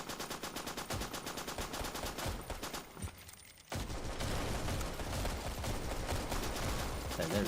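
Video game gunfire rattles almost nonstop in loud, rapid automatic bursts, breaks off for a brief lull, then returns just as dense and close.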